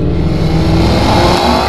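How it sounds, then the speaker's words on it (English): A drag racing car's engine revs loudly and steadily close by, a dense roar that holds for the whole moment with no talk over it. "You already hear that car."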